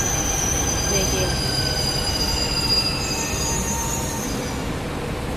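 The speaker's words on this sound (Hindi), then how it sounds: "आ चुकी है मेरी मेट्रो, देख सकते हो आप लोग।" A metro train pulls into a station, its wheels squealing in long, high, sustained tones over a steady rumble of rolling stock, loud and close, with no talking.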